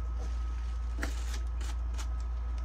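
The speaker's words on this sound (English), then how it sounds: "Let's go ahead and get it taped on." Packing tape being applied to a shipping package: a few short crackling rips and presses over a steady low hum, close and fairly quiet, no talking.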